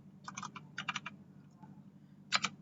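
Someone types an IP address on a computer keyboard: short bursts of quiet, quick keystrokes with pauses between them over a low steady hum, no talking.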